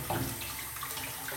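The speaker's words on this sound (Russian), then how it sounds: "Немножко намочим его" Running tap water wets a shaving brush before a shave, a steady close splash and trickle lasting about a second and a half, with no talking over it.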